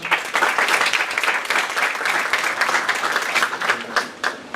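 An audience at a criminal law studies workshop and keynote lecture gives a strong round of applause, dense, crisp clapping throughout, tapering slightly at the close.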